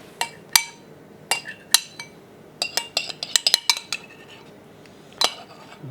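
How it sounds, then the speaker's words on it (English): A spoon clinks and scrapes against a mixing bowl while yoghurt is spooned in for potato wedges, with a series of sharp, close metallic taps that are irregular and cluster in the middle. "we're going to add that in as well. Just spoon that in."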